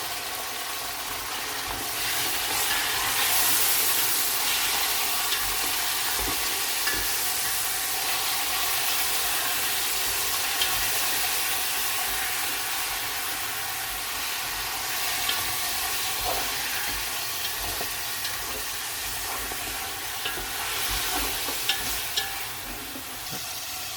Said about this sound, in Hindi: चिकन डाल के हमने तकरीबन इसको 3 से 4 मिनट को भूना